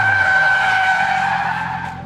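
A Renault Formula 1 race car skids and drifts around a Sochi circuit, one long loud tire squeal and engine whine that holds steady and then slowly fades as it moves away.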